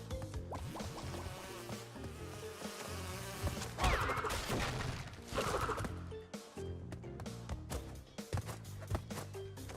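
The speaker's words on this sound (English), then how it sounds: "These goddamn bees." Bees buzz around the player in the video game Crystal Crashing, a busy, wavering drone mixed with dense game effects and impacts that swell in the middle and run throughout.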